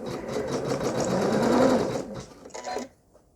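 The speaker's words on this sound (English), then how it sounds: "this first part of the design is just sewing the top to the wadding and the backing" An embroidery machine stitches a quilt top to wadding and backing, a short, close, rapid buzz of needle strokes that falters briefly, runs again, and stops within a few seconds.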